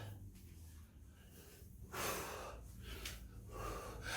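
Heavy, rough breathing during a cardio workout, gasping inhales and exhales arriving in uneven bursts close to the mic, quiet overall with a low room rumble beneath.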